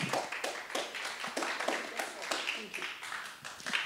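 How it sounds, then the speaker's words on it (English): Audience applause for a guest called up at an evening community event, scattered claps in a moderate, uneven patter with some crowd voices mixed in, fairly near. "Round of applause, please."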